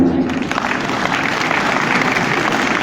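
Audience applause fills the hall, a dense, steady clapping from a large crowd that holds evenly loud throughout with no pauses.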